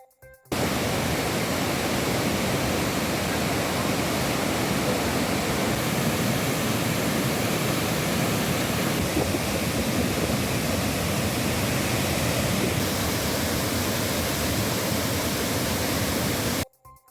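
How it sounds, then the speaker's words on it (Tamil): Thirparappu waterfall runs in heavy flow, a steady, loud, dense rushing roar that holds unchanged from start to finish with no voices. "திருப்பரப்பு அருவியில் நீர்வரத்து அதிகரித்துள்ளதால்"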